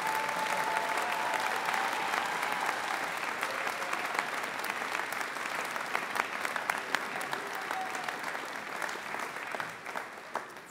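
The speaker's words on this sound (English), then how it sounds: "One more round of applause." Graduation ceremony audience applauding steadily throughout, a dense sustained wash of clapping from a large crowd at moderate distance, with faint voices mixed in.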